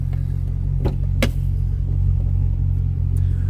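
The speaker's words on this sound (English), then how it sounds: "Nice rumble coming out of this car too." A 2010 Chevrolet Camaro SS idles with a steady, deep exhaust rumble, loud and close, broken by a couple of short sharp clicks and no voices.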